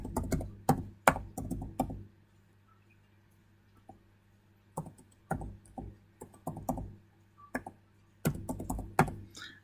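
Bursts of close, crisp key clicks from an email address being typed on a computer keyboard, in quick uneven runs separated by short pauses, over a faint steady hum.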